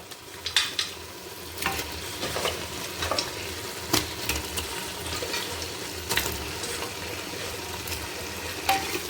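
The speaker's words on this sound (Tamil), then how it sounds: "ஒரு 5 நிமிஷம் நல்லா கிண்டி விட்டுட்டே இருக்கணுங்க." Chicken pieces frying in hot oil for country chicken biryani are stirred with a utensil, giving a steady sizzle with scraping, clattering strokes at irregular intervals, fairly close and with no talking.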